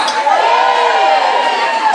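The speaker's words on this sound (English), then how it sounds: "That cheer started louder, they got a bit quiet." A festival crowd at Caister cheers in a single sustained roar on being asked to make some noise, loud and close, fading only slightly over two seconds.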